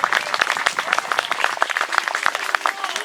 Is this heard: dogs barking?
no